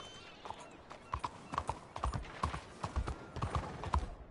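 Horse hooves clip-clop in a steady walking rhythm in Red Dead Redemption 2, fairly quiet and close, with regular paired hoof strikes continuing for a few seconds.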